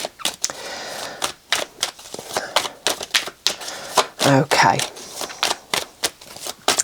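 Tarot cards being shuffled in a steady series of crisp riffling snaps, close by, with a brief spoken word partway through.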